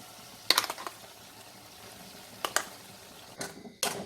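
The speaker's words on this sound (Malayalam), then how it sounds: "ഇപ്പോൾ ഇതൊന്ന് നന്നായിട്ട് തിളച്ചിട്ട് വെള്ളമൊക്കെ ഒന്ന് കുറഞ്ഞ് വന്നിട്ടുണ്ട്" Thick pineapple pachadi reduced and boiling in a pot gives a few sparse, soft bubbling plops and bursts spread over a quiet background, fairly close and with no one talking.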